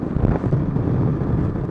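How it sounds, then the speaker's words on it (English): Strong wind buffets the microphone while riding a motorcycle, a steady, low rumbling roar that lasts throughout, with no voices. "wow, so windy."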